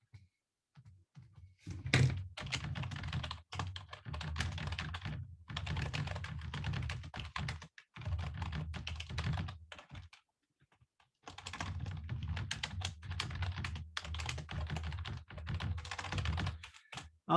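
Chalk or marker writing on a board during a university mathematics lecture, with quiet irregular taps and scratchy strokes in several bursts separated by short pauses, faint in a room with no talking.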